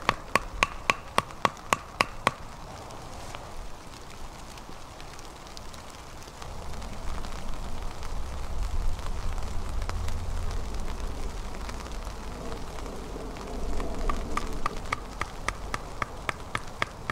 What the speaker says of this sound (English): So it just started raining, so I've changed my tarp configuration